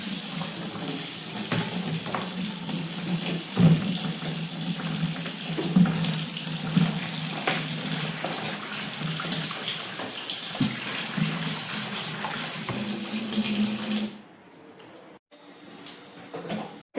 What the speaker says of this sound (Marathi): एकदा सर्व भाजीपाला धुवून घेते स्वच्छ.